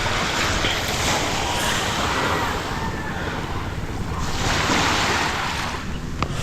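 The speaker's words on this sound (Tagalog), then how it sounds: "Hindi malakas yung alon, no." Gentle sea waves wash steadily at a mussel-farming estuary under overcast weather, a continuous rushing surf mixed with heavy wind buffeting on the microphone, swelling and easing slightly, with a faint voice in the background.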